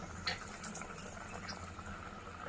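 Tamarind broth for brinjal curry simmering in a pan, a soft steady bubbling with small pops, close and faint, alone without talk.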